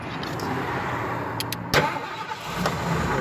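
A 1988 Ford Econoline van that had trouble starting is cranked and fires up, its engine noise close and fairly loud for a few seconds, with a couple of short clicks and thumps.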